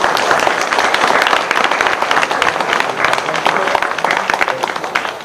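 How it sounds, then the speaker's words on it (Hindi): An audience at a large auditorium festival gives a teacher loud, sustained applause, with dense clapping and some crowd noise throughout. "जोरदार तालियां"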